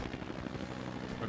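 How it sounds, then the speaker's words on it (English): A helicopter in the video game Tony Hawk's American Wasteland whirs as a steady, dense rotor drone, fairly loud and unbroken throughout with no talking. "A helicopter."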